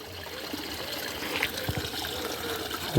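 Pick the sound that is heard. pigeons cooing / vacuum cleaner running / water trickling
water trickling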